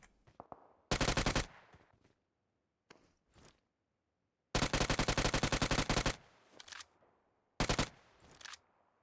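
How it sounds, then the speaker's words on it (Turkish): Automatic gunfire in the mobile battle royale game PUBG Mobile, three loud bursts of rapid shots separated by quiet gaps and faint footsteps and clicks. "Abi bu mermiler nasıl kafasına gitmiyor ya?"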